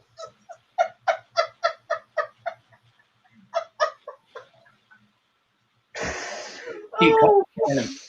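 Repeated short, raspy coughs come in a quick rhythmic series, then a few more after a pause, followed by a brief stretch of nearby talking.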